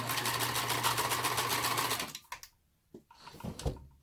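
A sewing machine stitches furry puppet fabric in a fast, steady, close-up whir for about two seconds, then stops, followed by a few quiet clicks and handling sounds.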